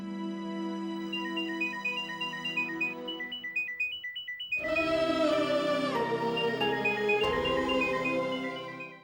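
A telephone ringtone repeats its melodic pattern again and again with nobody picking up, heard steadily over a soft music bed for the whole stretch.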